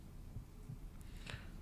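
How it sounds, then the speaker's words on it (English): Heartbeat in the survival horror video game Pneumata, a few low, soft thuds pulsing steadily under a faint hum. "Ooh, his heartbeat."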